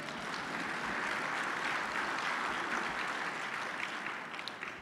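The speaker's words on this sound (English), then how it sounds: "That deserves a round of applause." Applause from a breakfast audience at a mayor's State of the City address, soft and distant, holding steady before tapering off at the end.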